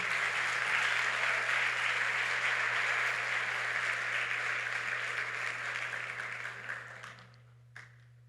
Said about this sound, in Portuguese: Você pode dar uma salva de palmas para essa galera mais uma vez?